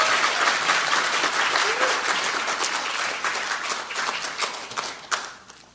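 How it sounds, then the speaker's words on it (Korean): Applause from the audience at a political gathering welcoming a National Assembly member, a dense burst of clapping that holds steady, then thins into scattered individual claps before fading out. "뜨거운 박수 부탁드립니다"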